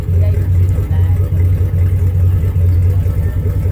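A 1976 Ford F150 pickup engine with dual exhaust idles with a deep, steady rumble and a slight pulsing throb, close and loud.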